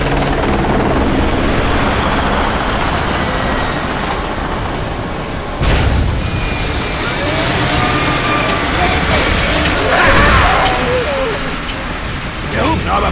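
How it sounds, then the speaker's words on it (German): Damaged helicopter coming down in the video game Bulletstorm, a loud continuous rotor roar and rumbling engine drone with sharp impacts and swelling whines, with game noise mixed in throughout. "Der Hubschrauber von diesem Penner ist beschädigt. Er kommt runter."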